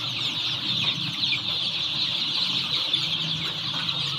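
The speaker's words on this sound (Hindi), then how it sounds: "मुर्गे ने पूरे मतीरे के ऊपर कब्जा किया हुआ टुकड़े के" Rooster and hens clucking busily while pecking at a watermelon on a small home farm, a dense chorus of close, continuous fowl chatter with no talking.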